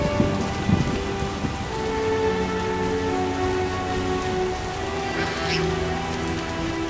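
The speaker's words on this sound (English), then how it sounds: "It rains and it pours." Steady rain pours down in The Witcher video game, a dense even hiss, with a few louder splashes near the start and a faint distant rumble of thunder underneath.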